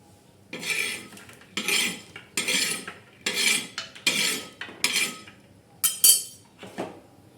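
A spoon scrapes and clinks around a pan while masala is stirred with peanuts being roasted, for a black brinjal curry. Several rhythmic, close stirring strokes come one after another, with no voices.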